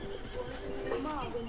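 A horse in Red Dead Redemption gives a short, loud whinny with a rising and falling pitch over a constant background of game noise and chatter.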